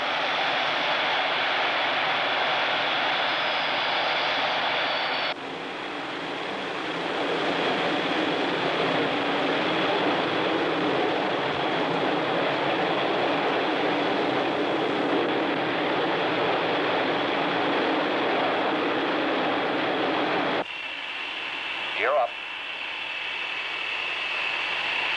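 Boeing B-47 jet engines power up for takeoff, a loud steady roar with a hissing whine that holds for about twenty seconds, then drops off abruptly near the end.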